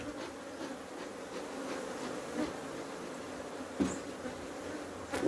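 Africanized honey bees in Trinidad buzz steadily inside a hive super, a close continuous droning hum with occasional louder individual bees passing near, and no voices.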